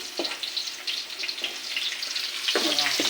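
Garlic frying in a pan until browned, a close, continuous crackling sizzle with bursts of louder spatter, including a sharp flare near the end.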